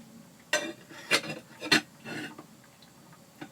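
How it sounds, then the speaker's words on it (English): Dishes clinking and scraping around at close range, four or five separate short clattering bursts about half a second apart, then quieter rustling. "What, you just want to hear my dishes clinking around?"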